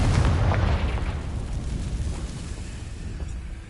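A Confringo spell explosion goes off in Hogwarts Legacy with a loud, deep blast at the start, then a rumbling roar that slowly fades over several seconds. No one speaks.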